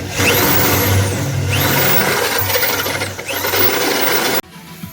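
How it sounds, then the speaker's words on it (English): A power drill bores a hole through a car firewall during a Formula Drift pro car build, with three loud, sustained grinding passes and then a sudden stop near the end. "Got the hole drilled"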